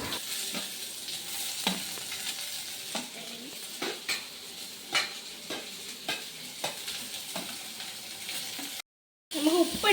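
Sliced onions, added after ginger and garlic, fry in a pan with a steady crackling sizzle while a spoon stirs them in repeated scraping strokes, close and fairly loud, with a brief dropout near the end and no talk.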